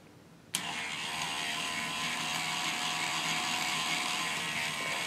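K'nex shaft synchronizer flywheel with a ratchet mechanism spinning up: an abrupt start into a steady, loud whirring rattle that holds evenly to the end.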